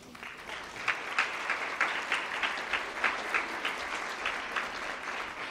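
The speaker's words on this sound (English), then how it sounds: "I'd love to give you a quick round of applause for all you do." An indoor audience gives a brief round of applause, a steady dense patter of clapping with some sharper individual claps, moderately loud and without talk.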